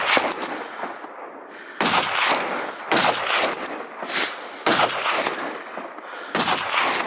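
Rapid gunshots ring out during a wild boar hunt on an open hillside: five loud, sharp blasts, each trailing off in a long echoing tail, fired in quick succession with no talk.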